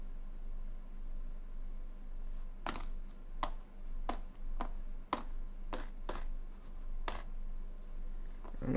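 Quarters from coin rolls dropped one at a time onto a hard surface, sharp bright pings and rings spaced irregularly over a faint steady background hum, close with no talking.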